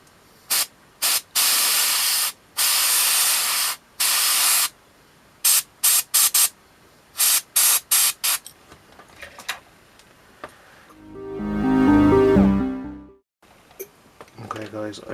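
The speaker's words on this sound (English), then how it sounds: "I'm going to start off with some imperial blue in the airbrush and blast this into his power pack" Airbrush spraying imperial blue paint onto a Blood Angels miniature's power pack: sharp bursts of hissing spray of varying length, loud and close, ending in a swelling mechanical whoosh.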